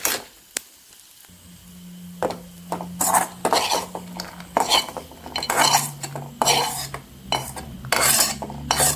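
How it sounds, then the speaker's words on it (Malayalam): Spoon scraping and clinking against a metal pan in repeated strokes as fried food is scooped out, close up, with a faint sizzle underneath and brief pauses between scoops. "നമുക്കിതിനെ ഒന്ന് കോരി മാറ്റി വയ്ക്കാം"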